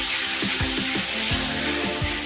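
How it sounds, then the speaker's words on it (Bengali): Ground coriander, turmeric and onion juice sizzle and hiss in a hot pan as the spices are fried, a steady spattering sizzle with several low knocks of a utensil against the pan. "এবার এটা মশলাটা ভালো করে কষিয়ে নেব।"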